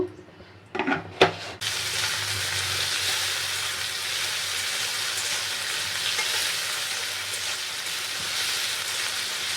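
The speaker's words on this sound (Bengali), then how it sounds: "কড়াইতে একটু তেল গরম করে পেঁয়াজটা দিয়ে দিয়েছি।" Onion hits hot oil in a kadai after a couple of brief clatters, then a loud, continuous close frying hiss holds steady to the end, with no voices.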